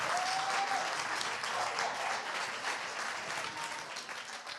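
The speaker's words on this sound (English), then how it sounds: "Huge round of applause for Ali Miller as well." A live audience gives sustained applause for a guest at a newspaper-themed talk event, with a full, even patter of many hands that holds steady and then tapers slightly toward the end.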